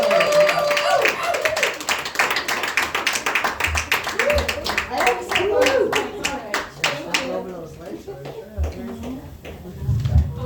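A comedy-show audience claps for the comedians, with a dense, uneven burst of many hands close by and voices and crowd chatter mixed in throughout.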